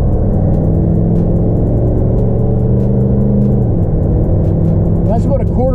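A diesel truck fitted with a BD throttle sensitivity booster accelerating at quarter throttle on a highway, a loud steady engine drone with rising tones near the end, under someone talking throughout.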